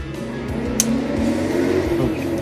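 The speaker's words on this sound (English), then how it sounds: "it's just a car that's going real fast outside my house" A car drives fast past a house outside, its engine loud and revving with rising and falling pitch, heard alone for a couple of seconds.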